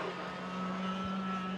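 Race cars in a TIA Jr final of the Festika Mizunami SL series, a steady moderately loud engine drone from the circuit with no clear passing peak.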